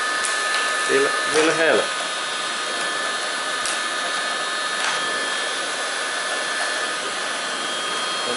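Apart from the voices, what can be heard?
heat gun or hair dryer heating a truck windshield glass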